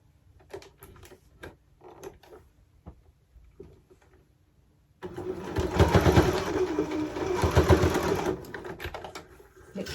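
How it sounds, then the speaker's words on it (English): Sewing machine stitching the seam of a jersey-fabric jumpsuit: first a few brief, quiet starts and stops, then from about halfway a loud, steady, rapid run of stitching that continues to the end. "So I make sure that it's sewn together with the machine, and then I can take it on with the overlocker."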